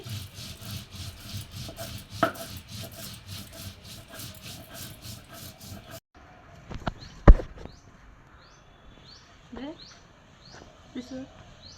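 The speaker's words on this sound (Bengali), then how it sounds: "সেতে সর্ষেগুলো আমি সুন্দর করে বেটে নেব আর এখানে কাঁচামরিচ পেঁয়াজ কুচি করে কাটা নেওয়া হয়ে গেছে শিল্পাটা বেটে নিচ্ছি" Mustard seeds with green chillies and chopped onion ground on a stone shil-pata for a mola fish paturi, a steady rhythmic rubbing and scraping of stone on stone, close and continuous, followed by a few sharp knocks and quieter handling.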